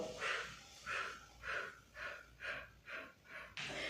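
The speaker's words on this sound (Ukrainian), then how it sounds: "нашої зарядки ми виконуємо дихальні вправи" Rhythmic breathing exercises during a children's morning warm-up workout: about seven slow, audible breaths in a steady pattern, close and fairly quiet, with no talking.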